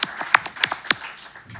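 A short burst of scattered hand claps at a human rights forum, a few sharp separate claps rather than a full crowd, fading out after about a second.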